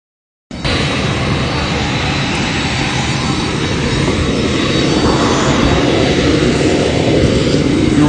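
Steady, loud jet aircraft engine running close by, starting abruptly and then holding a continuous roar with a high whine on top for several seconds, with no speech over it.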